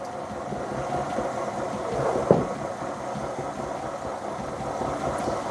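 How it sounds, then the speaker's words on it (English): A KitchenAid stand mixer runs with a steady, even motor whir while mixing cheesecake batter with cream and flour; one sharp clink cuts through briefly partway in. "we can stop the KitchenAid, the mixer"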